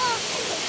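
Rushing water from Bamboo Falls makes a constant broadband roar, loud and close, filling the short moment without pause.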